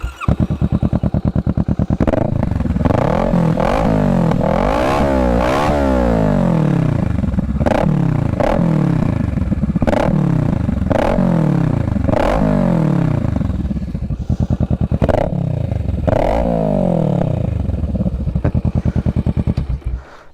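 A motorcycle fitted with a custom exhaust pipe is revved hard over and over. Loud, growling blips climb and drop in quick succession, with short idle gaps between them, close to the listener, with no talk.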